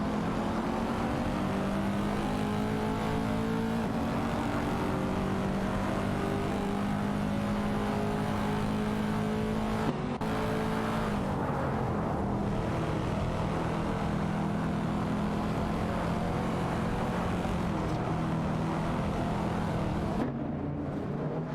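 Race cars in a racing video game, Mazda and Porsche 911 991 Turbo among them, roar continuously with layered engine drones and shifting pitch as several cars jostle for position, loud and steady throughout.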